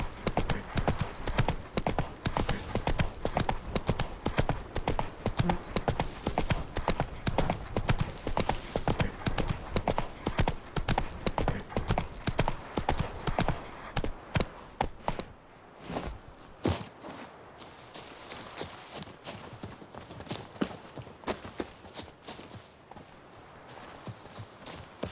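Hooves of the horse Roach clip-clop in a quick steady rhythm across a hard surface in The Witcher 3, loud and close for about fifteen seconds, then fade to quieter ambience with a few scattered steps.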